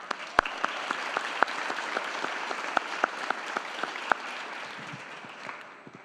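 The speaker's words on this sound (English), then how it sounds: "so let's give ourselves a huge round of applause." An audience at a school's graduation ceremony claps, a moderate wash of applause punctuated by sharp, louder individual claps close by, gradually tapering toward the end, with no talking.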